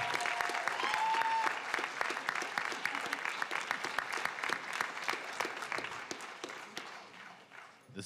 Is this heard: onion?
no